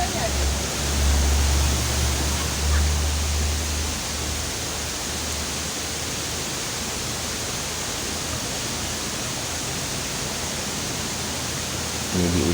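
Bantimurung waterfall roars in a loud, unbroken wash of rushing water that stays constant and close.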